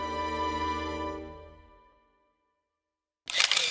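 A camera shutter sound effect in a web radio show segment: a bright sustained chime fades out, then after a short silence a sharp, close mechanical click-burst follows.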